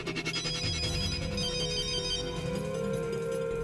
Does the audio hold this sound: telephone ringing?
yes